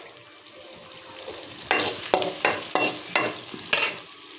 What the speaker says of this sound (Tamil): நறுக்கி சின்ன வெங்காயத்தை போட்டு வதக்கணும்.